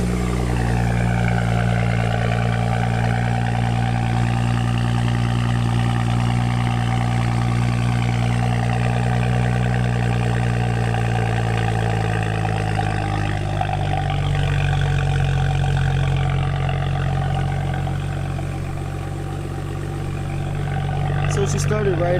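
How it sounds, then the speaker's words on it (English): A 2012 BMW 335i M-Sport salvage car idles just after starting, running without its belt: a steady, close low engine hum with constant harmonic drone that holds evenly throughout, dipping only slightly near the end. "Cylinders sound like they're all firing."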